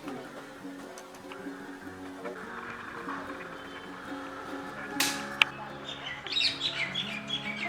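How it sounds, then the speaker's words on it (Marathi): Birds chirp and tweet faintly in the background at a quiet shrine site in Akkalkot, with a few sharper calls later, over a soft outdoor ambience and distant voices. "पक्षी पाखरांचा मंजूळ आवाज"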